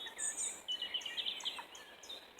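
Small birds chirp in quick, faint bursts at a park during feeding time, heard from a distance with no talk over them.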